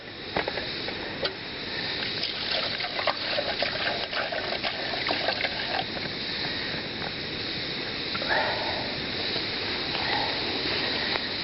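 Water pours and gushes steadily into a metal camping pot set for hot chocolate, a continuous close splashing stream with faint clinks and no voices.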